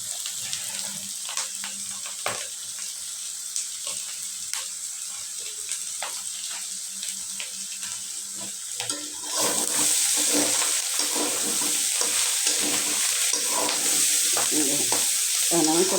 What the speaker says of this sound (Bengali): যে করলা ভাজিটা আমার হয়ে গেছে।